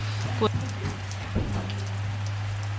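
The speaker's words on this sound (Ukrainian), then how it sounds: "дощик іде." Rain falls steadily outdoors over a vegetable garden with cucumbers, making a constant soft hiss over a low electrical hum. A few faint knocks sound partway through.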